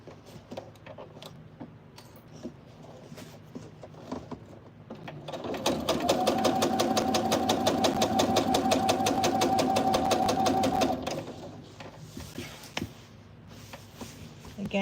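A sewing machine stitches a French seam on folded fabric, running steadily in one loud, rapid rhythmic burst of about five seconds, with a person talking before and after it.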